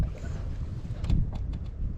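Wind gusts buffet a fishing boat out on open water, a steady low rumble of breeze with faint creaks and knocks against the hull throughout, and no voices.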